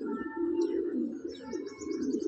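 A female Madrasi pigeon in a loft gives a continuous low, rolling coo up close, with faint chirps from other birds in the background.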